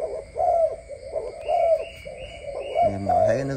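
Imported Siêu Gù pigeons coo during breeding, with repeated rhythmic low coos in steady phrases about every second, close and clear, and a fuller, louder coo toward the end.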